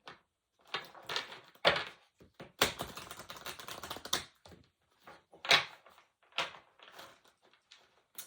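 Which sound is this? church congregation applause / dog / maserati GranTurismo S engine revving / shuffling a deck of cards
shuffling a deck of cards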